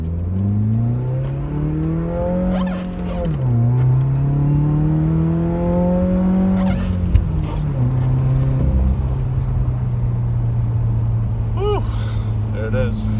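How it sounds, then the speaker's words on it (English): A 2018 Subaru WRX fitted with a Nameless cat-back exhaust accelerates through several gears, its engine note climbing in pitch and then dropping at each shift before settling into a steady cruise, heard close up from inside the car. "let you guys listen to what the exhaust sounds like now that it's broken in"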